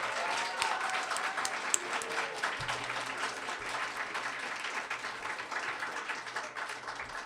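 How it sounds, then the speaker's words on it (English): An audience at a climate change event featuring student speakers fills the room with a dense, steady wash of applause lasting several seconds, with no voices rising above it. "Can we give them one more round of applause?"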